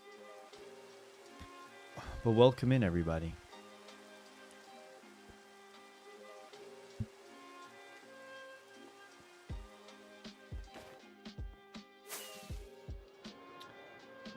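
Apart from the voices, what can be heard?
rain in Minecraft video game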